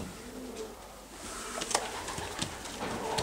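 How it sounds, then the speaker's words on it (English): Racing pigeons coo softly inside a loft's stock shed, with low murmuring calls against a quiet background and a few faint knocks and shuffles. "He's a lovely looking pigeon, the checker."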